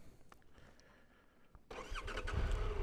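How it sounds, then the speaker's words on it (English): A Triumph Tiger motorbike out in the Lake District: a quiet stretch of low engine sound, then at the midpoint a sudden louder burst of engine noise and rumble that sputters unevenly, as when the bike stalls. "And stalling your bike like that."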